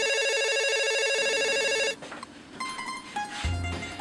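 A telephone rings with a loud, steady electronic tone for about two seconds, then cuts off, followed by a muffled handset pickup and room noise.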